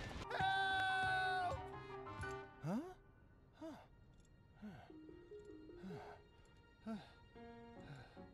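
A creature in The Legend of Zelda: Breath of the Wild breathes in slow, heavy, airy huffs, spaced apart and close, following a brief burst of musical game tones at the start.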